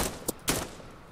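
Gunfire in the shooter video game We the People: two sharp, close shots a fraction of a second apart, the second louder, followed by fading reverberation.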